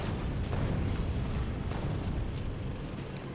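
Cannon fire in Factorio, a dense, continuous rumble of booming blasts and explosions with no clear gaps, loud and sustained throughout.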